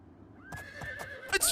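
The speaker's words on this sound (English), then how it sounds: "Is this horse following me?" A horse in Dragon Age: Origins whinnies in a long, loud neigh while hooves clop in a few uneven steps beneath it, with a sharp bright burst near the end.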